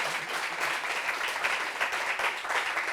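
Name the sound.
audience applause for a couple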